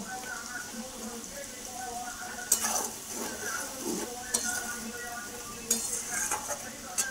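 Mango oil pickle is stirred in a pan over heat, producing soft scraping and occasional metallic clinks of the spoon against the pan over a low frying sizzle, with a few louder scrapes.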